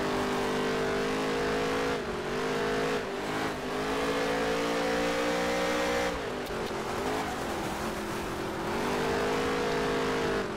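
Race cars roar around an oval dirt track during a Wild West series event, engines droning continuously and loudly with pitch rising and falling as cars accelerate, pass and lift through the corners, no voices.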